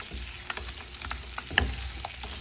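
A protein-rich breakfast snack is stirred into a spiced oil tempering in a pan, giving a soft, steady sizzle with scattered scrapes and light knocks of a spoon.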